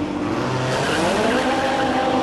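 A Ferrari race car engine at a hillclimb roars loudly and continuously, a dense high-revving drone with a slight screech of tires, no voices.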